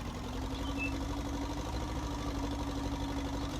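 A tractor engine idles steadily in Farming Simulator 19, a constant low mechanical hum with a faint tonal drone running unbroken and fairly close throughout.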